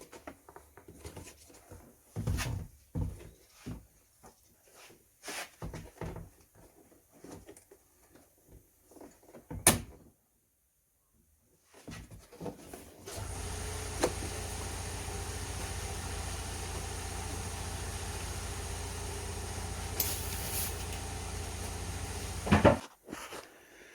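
Rear door card panel of a Volvo V90 being unclipped and lifted off: scattered plastic clicks, knocks and rustles, then a steady low engine-like hum under further handling, with no talk.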